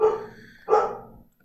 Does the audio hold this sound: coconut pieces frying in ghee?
no